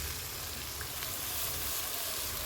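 Onion, tomato and ground spices (cumin, ginger, garlic, coriander and chili paste) fry in a pan for a chicken dish, giving a steady, soft, even sizzle with no voices.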